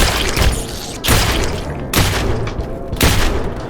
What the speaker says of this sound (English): we got gunshots right off the bat